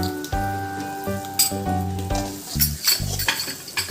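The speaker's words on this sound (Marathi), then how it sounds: "कढीपत्ता घालायचा, छान याला थोडं होऊ द्यायचं आणि चवीनुसार मीठ घालायचं।" Curry leaves sizzle sharply in hot oil in a pan, with salt stirred in for a rice dish. The frying crackles in close, uneven bursts over a steady tonal background.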